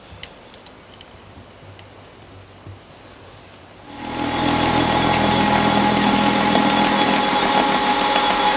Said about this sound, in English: Just going to machine the spigot now.